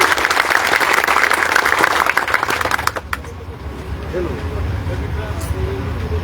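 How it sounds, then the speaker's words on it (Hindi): A crowd at a political rally against an Adani power plant applauds loudly for about three seconds, a dense patter of clapping that fades out, leaving background murmur and a faint voice. "इनके लिए एक बार जोरदार तालियां सबकी के लिए"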